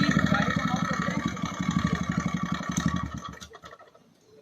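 A TVS Raider 125cc motorcycle fitted with an aftermarket exhaust idling close by, a steady rapid single-cylinder thumping that carries on for about three seconds, then drops away to near silence.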